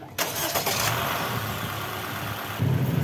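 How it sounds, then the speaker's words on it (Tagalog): A Honda City car engine, just fitted with a new spark plug, cranks and catches right away, then settles into a steady, close idle that grows slightly louder and deeper near the end. "paandarin ko na itong makina."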